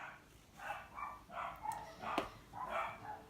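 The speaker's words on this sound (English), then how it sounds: "Dogs barking." Dogs bark in a series of short, fairly quiet barks, roughly one every half second, with a sharp click partway through and no talking.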